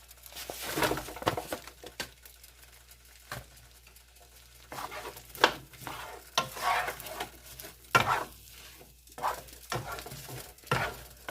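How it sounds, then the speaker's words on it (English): Onions sauteing in butter in a frying pan, with soft sizzling under repeated stirring scrapes and clinks throughout, moderately close. "we're going to saute some onions"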